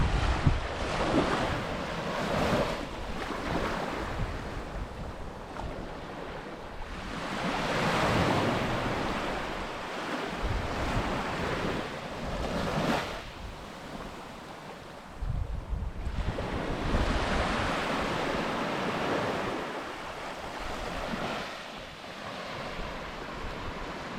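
Steady wind and breaking waves surround a sailboat under mainsail off a Bahamas cay, a continuous broadband rush that swells and eases in long surges, with heavy wind buffeting on the microphone and no voices.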